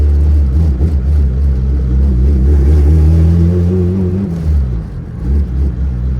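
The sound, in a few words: turbocharged Honda Civic engine misfiring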